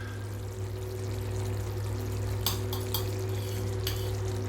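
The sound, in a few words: ghee being poured into the pan for bhindi do pyaza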